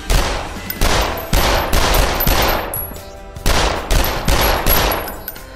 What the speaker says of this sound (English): Another Uzi one. They are burst fire.